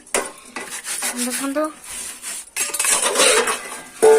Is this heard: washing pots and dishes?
yes